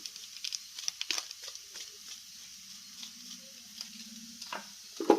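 Egg masala curry mixed with red chilli powder, salt and garam masala makes quiet, irregular scraping and soft wet taps over a faint low sizzle.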